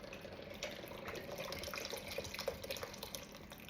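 Broth concentrate and water being poured into a cooking pot, a faint steady trickle and splash of liquid with small drips, quiet and close, no voices.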